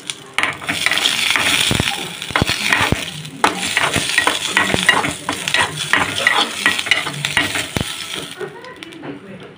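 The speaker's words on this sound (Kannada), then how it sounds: "ಮೆಣಸಿನ್ಕಾಯಿ ಹಾಕಿ ನೋಡ್ರಿ ಒಂದು ಹುರ್ಕೋತೀನಿ ರೀ." Green chillies frying in a pan with oil, a steady sizzle broken by scraping, clinking stirs of a spatula against the metal, close and fairly loud throughout.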